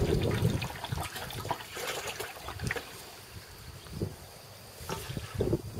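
Water being emptied out from an air lift well pump, heard as faint irregular splashes and gushing trickles in short bursts, fairly close and without talk.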